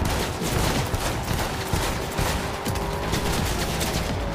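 Sustained automatic gunfire in Cyberpunk 2077 rattles in tight rapid volleys, loud and close, continuous from start to end with no voices over it.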